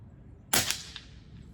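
An air rifle shot striking a target at an airgun championship: one sharp, loud crack with a quick decaying ring and a faint tick just after, then quiet.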